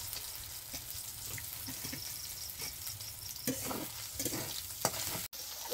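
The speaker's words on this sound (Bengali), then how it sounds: "তো ডিমটা ভালো করে একটু ভেজে নেই।" An egg fries in oil in a pan in a village kitchen, giving a steady, soft, close sizzle with occasional light clinks and stirring noises and no talking.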